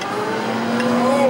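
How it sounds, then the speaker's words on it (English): Fire truck engine in Atari's Fire Truck arcade game, a steady electronic motor drone with a rising tone near the end, heard under a person talking. "We have to both steer this fire truck in unison."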